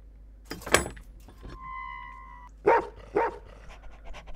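A dog barks a few times in the horror video game In Silence, short sharp yelps mixed with game noises and a tonal hum, fairly close and without talk.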